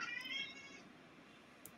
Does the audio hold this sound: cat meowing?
yes